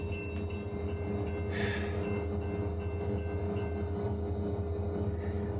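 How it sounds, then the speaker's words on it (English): A manifest freight train rolls past in the rain, a steady loud rumble and rhythmic wheel clatter filling the whole span, with a faint hiss of rain on top and no talk. "I was right. A manifest train."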